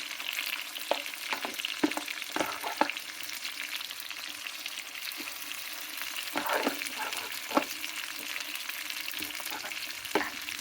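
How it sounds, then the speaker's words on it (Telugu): Tomatoes sizzle and crackle steadily in hot oil, close by, with occasional scrapes and clinks of stirring. "ఇది నూనెలో వేగాలి, ఈ పచ్చి వాసన పోయేంత వరకు వేగాలి."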